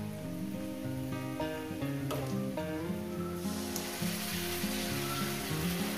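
Food fries in a pan with a steady close sizzle and crackle, while a clear musical melody plays loudly over it throughout.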